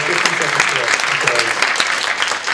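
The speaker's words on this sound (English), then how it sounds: "I think that's all the time we have for questions, so one more round of applause for Zach Coppin, please." An audience at a talk on creationism and school voucher programs applauds loudly and continuously, with a crisp clatter of many hands and speech-like sound mixed in.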